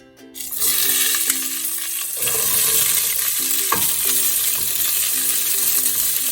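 Green beans sizzle loudly in a hot skillet, crackling and spitting with occasional stirring clinks and scrapes, a steady close frying sound without any talking.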